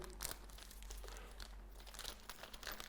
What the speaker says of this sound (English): So rip the bag open